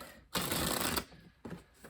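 Disney Villains tarot cards are shuffled in a loud, dense riffle lasting about half a second, followed by a couple of softer card flicks and slides close by.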